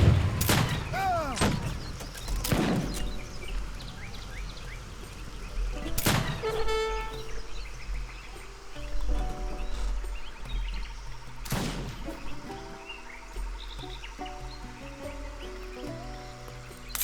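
Sailor units fire in an Age of Empires 3 Wars of Liberty match, producing several sharp, loud gunshot cracks spread across the stretch, over game ambience with bird-like chirps and scattered thuds.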